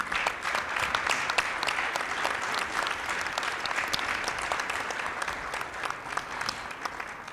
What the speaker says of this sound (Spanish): pido que demos un gran aplauso